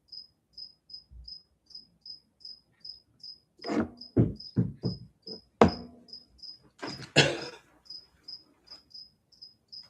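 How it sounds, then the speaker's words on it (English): A cricket chirps steadily in short, evenly spaced pulses throughout, with a few louder knocks and clatters breaking in midway. "So now you're going to have to deal with a cricket in the background making a bunch of noise."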